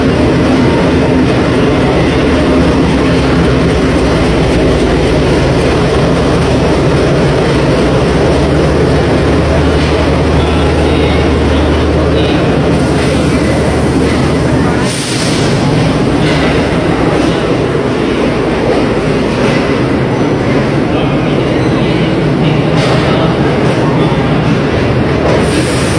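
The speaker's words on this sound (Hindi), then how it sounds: "पाकिस्तान रेल की सबसे लग्जरी ट्रेन जिसका अराइवल प्लेटफॉर्म नंबर 2 पर हुआ है" Pakistan Railways Green Line Express, led by locomotive 90-12, arrives at a station platform with a loud, continuous rumble and rattle of wheels and carriages that fills the whole stretch, with a brief louder hiss midway.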